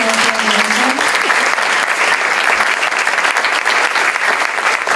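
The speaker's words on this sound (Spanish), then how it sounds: "Les pido un aplauso de nuevo para el protagonista." A theater audience at a documentary premiere about transport workers breaks into sustained, loud applause for the film's protagonist, dense clapping filling the room throughout, with a brief voice at the very start.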